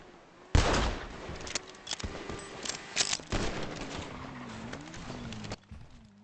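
Gunfire in a GTA roleplay game, with a Navy Python aimed at a vehicle's tires: a few scattered shots and bursts at moderate distance over rumbling engine and road noise, with no talk.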